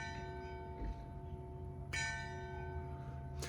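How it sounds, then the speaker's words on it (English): Church bells ringing in Positano, Italy, faint and distant, steady sustained tones carrying under a quiet outdoor background with a few brighter strikes. "There's the church bells going off in the background."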